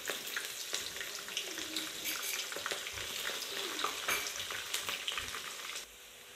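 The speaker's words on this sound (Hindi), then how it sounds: "ऑयल गर्म हो गया है। अभी इसमें मैं एक अदद प्याज डाल रहा हूँ। स्लाइस कर लिए मैंने इसके।" Sliced onion fries in hot oil for a Hyderabadi beef tahari, a steady loud sizzle with scattered crackles and stirring clatter throughout, easing slightly near the end.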